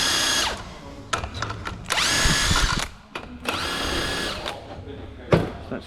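Pneumatic impact gun with a socket rattling off the top nut of a Vauxhall Corsa D shock absorber, loud close bursts of hammering whirr separated by short pauses.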